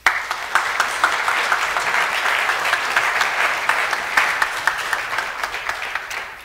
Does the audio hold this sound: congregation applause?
yes